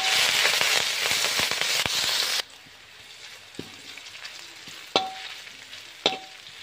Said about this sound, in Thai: ตั้งกระทะเทน้ำมันลงไปนิดหน่อยนะเจ้าเอาพริกกระเทียมลงไปนะ